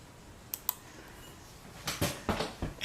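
A computer mouse double-clicks, two quick sharp clicks close together, followed after a pause by a busier patter of clicky clatter building toward the end.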